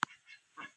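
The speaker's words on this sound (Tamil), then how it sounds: "இங்கே வாத்து வருது பாருங்க" Ducks on a village farm with a poultry shed and goats, giving a few short, raspy calls, one sharp call then softer honking quacks, close and alone.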